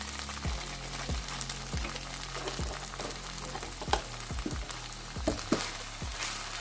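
Chicken filling with milk in a hot pan is stirred, with rhythmic low scraping strokes recurring about every half second over a steady bubbling sizzle, close and alone without talk.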